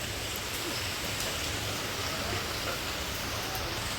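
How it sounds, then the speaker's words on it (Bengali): Heavy rain falling produces a steady, dense hiss of fairly quiet broadband noise with no other sounds over it. "বৃষ্টি খুবই জোরে জোরে পড়ছে"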